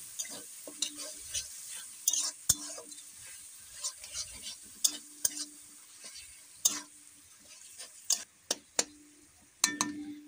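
Chicken curry masala being stirred and fried in a pan, with a soft continuous sizzle broken by sharp, irregular clinks and scrapes of a spatula against the pan, close and fairly quiet.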